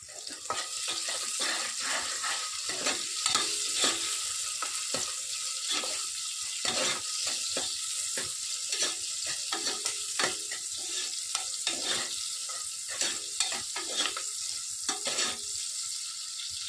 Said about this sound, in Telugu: ఆయిల్ బాగా వేడెక్కిన తర్వాత ముందుగా కట్ చేసి పెట్టుకున్నటువంటి మీడియం సైజ్ ఆనియన్స్ వేసుకొని బాగా దూరగా వేయించుకోవాలి.